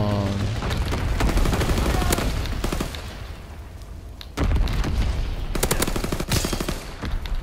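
Rapid submachine gun bursts fire in Call of Duty WWII gameplay, loud and close, with repeated sharp volleys and a brief pause midway before more rattling bursts.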